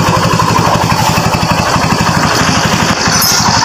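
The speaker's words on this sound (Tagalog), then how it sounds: "napakaganda pa ng andar ng kanyang makina" A Kawasaki Barako 1 motorcycle engine runs close by at a steady idle, its single-cylinder firing pulsing rapidly and evenly with mechanical clatter layered over it.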